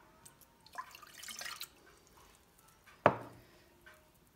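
A glass of water poured into a saucepan in a home kitchen for churros dough, a brief watery splash and trickle, then a sharper splash against the pan and faint drips in a quiet room.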